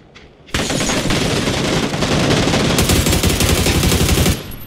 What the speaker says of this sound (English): I was shooting him through this window, you're shooting him through the other window.